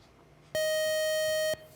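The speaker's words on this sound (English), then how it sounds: "The buzzer got you there." A quiz show buzzer sounds once, a loud, steady electronic tone lasting about one second against a quiet background.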